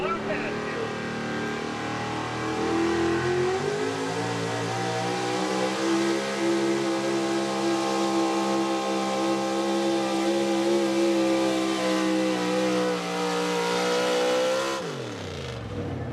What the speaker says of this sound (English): driven by Tracy Troy, a 1993 Chevy from Rector, Pennsylvania.